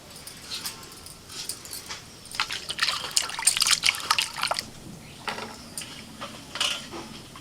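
Tap water trickles and splashes in uneven bursts as fish is rinsed in a home kitchen, close by and moderately loud, with occasional clinks between spells of running water.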